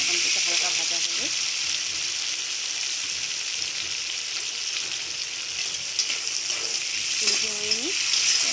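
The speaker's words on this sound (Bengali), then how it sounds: "সাথে বাদামটাও দিয়ে দেবো। বাদামটা হালকা ভাজা হবে।" Peanuts and chopped tomato frying in a pan with bay leaf and black cumin for a pointed gourd dish, giving a steady broadband sizzle with brief stirring scrapes and faint voice-like tones near the start and end.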